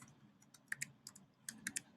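Numbers are typed into a computer in a few quick, distinct key taps close to the mic, soft and sparse over faint background noise.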